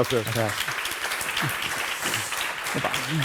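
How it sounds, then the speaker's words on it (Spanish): Audience applause at a national sustainable construction congress session, a dense wash of clapping throughout the short stretch, with a voice speaking over it near the start and end. "Así que un gran aplauso, ¿no?, para ellos"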